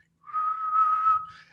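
A person whistles a single steady, clear tone that holds for just over a second, wavers slightly in pitch near the end, and sounds close and alone.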